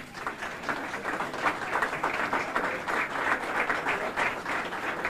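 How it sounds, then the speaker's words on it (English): A crowd applauds steadily, dense overlapping claps forming a continuous, fairly loud roar with no pauses throughout. "take a round of applause to these great guys"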